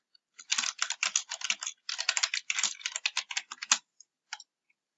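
Rapid bursts of keystrokes on a computer keyboard, close and crisp, run in quick clusters with brief pauses and end in a few isolated taps, with no talk.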